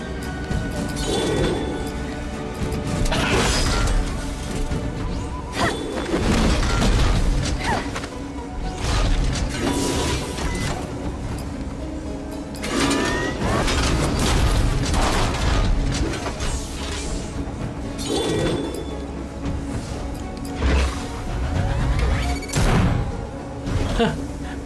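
Gun attacks in the turn-based game Battle Chasers: Nightwar fire in repeated bursts of mechanical clanks, crashes and whooshes, loud and layered over game music and effects.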